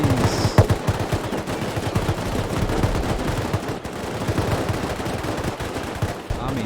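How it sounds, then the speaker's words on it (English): In the Rust video game, automated base turrets open fire in a continuous, dense barrage of rapid gunshots that stays close and loud for the whole stretch. "And here come the turrets!"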